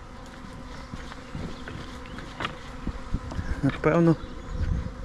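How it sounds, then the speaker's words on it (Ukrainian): Swarm of bees buzzing outdoors, a continuous close insect drone with rustling and handling noise, and someone briefly speaking near the end. "Рій, друзі."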